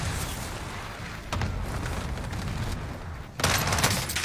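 Distant, continuous gunfire in the Warzone battle royale video game, a steady muffled crackle of shots that grows sharper and louder near the end.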